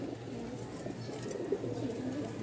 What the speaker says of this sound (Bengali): ডাক দেখছেন মাশাল্লাহ, রাজশাহীর গিরিবাজ বলে কথা